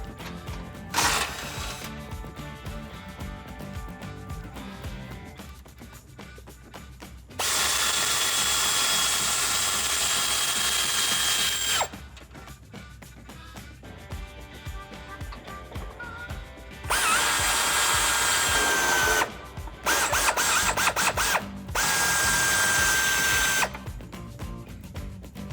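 Power tool with a 21mm socket removing a Jeep Wrangler JL rear tow hook bolt, loud whirring bursts of several seconds each, separated by quieter ratcheting and handling noises, close up.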